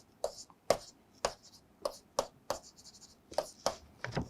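A pen moves over paper in quick, separate scratchy strokes, close and crisp, with short pauses between them and no talking.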